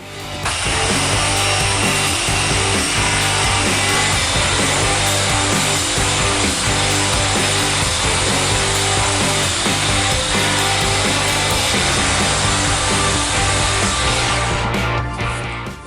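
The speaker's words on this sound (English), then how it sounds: "I have my sander here with the Scotch Brite, with the fine Scotch Brite" A power sander fitted with fine Scotch Brite polishes a deck plate with a loud, continuous buzzing rub that holds steady throughout and stops abruptly near the end.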